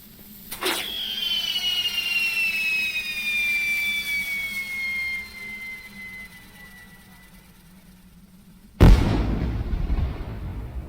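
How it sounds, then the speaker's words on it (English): A sharp pop launches a long, descending whistling tone, followed seconds later by a loud burst and crackling, from fireworks in the video game LOTRO (The Lord of the Rings Online). "I got these fireworks. This is pretty cool."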